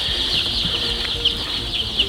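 Young chicks in a poultry house make a dense, continuous high chorus of chirping, with a few sharper peeps standing out. No talking.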